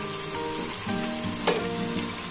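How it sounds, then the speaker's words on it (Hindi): Ginger garlic paste fries in a pan with a loud, steady close sizzle and a single sharp clink of a utensil midway. "और ये अदरक लहसुन का पेस्ट डाल देंगे। इसको अब हम थोड़ा भुनेंगे।"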